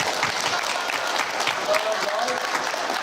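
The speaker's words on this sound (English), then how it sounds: "Give those guys a big clap" A school assembly crowd applauds, a dense, steady clapping that fills the hall from start to finish.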